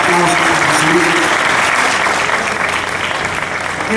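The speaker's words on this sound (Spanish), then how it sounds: "les demos un fuerte aplauso para recibir" Audience at a book presentation breaking into loud, sustained applause, many hands clapping close together in a steady roar that tapers slightly toward the end.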